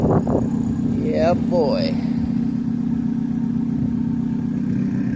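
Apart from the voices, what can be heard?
car engine revving through new up-pipe muffler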